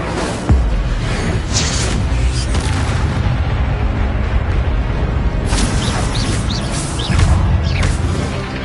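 Incendio fire spell cast in the video game Hogwarts Legacy, a loud sustained whooshing burst with booming low rumble and crackling, continuous through the clip with a fresh surge near the end.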